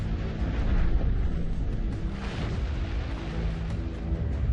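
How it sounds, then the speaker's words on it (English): Deep, continuous rumbling boom of explosions on the Sun as a sound effect, a dense roar that holds steady throughout with no voices. "Thousands of mammoth explosions rock our Sun every year."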